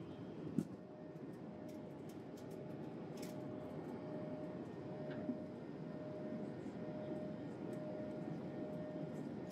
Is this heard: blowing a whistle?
no